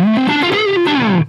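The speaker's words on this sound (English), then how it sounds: "because I have lots of distortion, lots of gain, it's easy to slide up and make it sound huge" A heavily distorted, high-gain electric guitar in drop D slides up in pitch to a loud sustained note, a single huge blast that rings bright and rich before cutting off abruptly.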